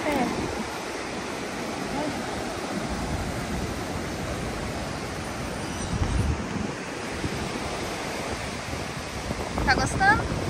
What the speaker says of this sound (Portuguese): Olha o mar como ele é feio.